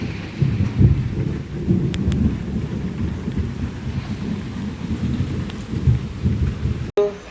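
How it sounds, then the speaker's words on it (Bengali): Medium rain falls steadily during a thunderstorm, with low rolling thunder running beneath the patter throughout and a sharp crack near the end, and no voices. "বৃষ্টি অত জোরে পড়ছে না মানে বৃষ্টিটা মিডিয়াম নেচে পড়ছে গেলে ভিজে যাবে কিন্তু বিদ্যুৎটা এখন প্রচুর চমকাচ্ছে"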